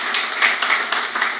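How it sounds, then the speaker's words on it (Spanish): A church congregation claps in praise to God during a Sunday service, a dense, continuous patter of many hands with a few louder swells, steady throughout and without voices. "Dele un aplauso al Señor"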